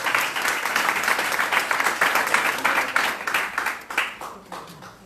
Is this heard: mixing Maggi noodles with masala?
no